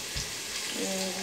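Onions fry in a pan with a steady close hissing sizzle, and a brief bump near the start.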